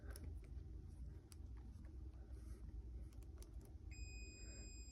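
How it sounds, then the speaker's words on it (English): A multimeter gives a high continuity beep while testing a washing machine mode shifter switch; the steady tone starts near the end over a low, quiet background hum. "So if it beeps, this one has a beep on it, then that means it does have continuity and the switch does work."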